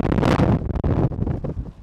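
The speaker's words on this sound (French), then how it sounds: "On a un vent à décorner des bœufs, là, comme on dit." Strong gusts buffet a microphone outdoors, loud rumbling bursts that rise and fall irregularly for about two seconds.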